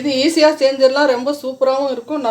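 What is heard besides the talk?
No distinct noise like a dog, phone or traffic.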